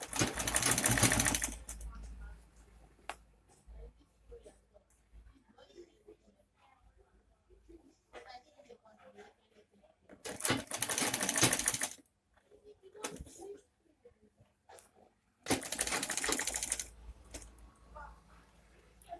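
A sewing machine stitches a sleeve seam in quick rapid bursts, three separate runs with quiet pauses between them where handling noises and soft talk are heard.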